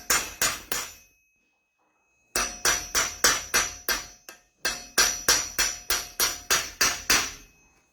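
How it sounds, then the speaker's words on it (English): A hammer beats scrap metal into a pre-formed ring with sharp, ringing metallic strikes, loud and close, in three quick volleys separated by short pauses. "You just keep repeating and hammering and pressing and hammering and pressing."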